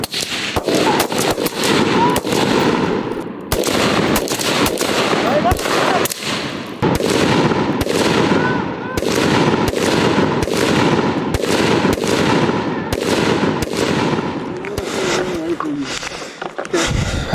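Gunfire rings out during a shooting drill where people advance in turns under cover fire: loud, close, irregular bursts of rapid shots that keep going for most of the stretch, with people shouting between them.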